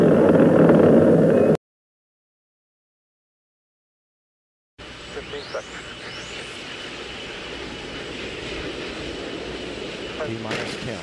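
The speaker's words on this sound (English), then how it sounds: "we have main engine start, 3, 2, 1, solid motor ignition and liftoff" Space Shuttle Challenger lifting off, its solid rocket motors and main engines producing a broad, loud roar that cuts out, then returns as a steadier rumble with faint whistling tones and a voice speaking over it.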